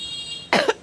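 A single sharp cough from someone with a cold, two quick bursts close up after a short quiet hum.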